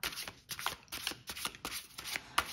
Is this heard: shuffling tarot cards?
yes